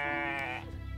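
A goat in the video game The Stillness of the Wind lets out a single loud, close bleat with a wavering pitch, lasting about a second and heard alone.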